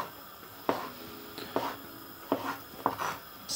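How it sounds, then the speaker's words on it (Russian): Knife cutting tomatoes into small cubes on a board, four or five soft separate chopping taps spaced irregularly, close and quiet with no talk. "Нарезаем их мелким кубиком."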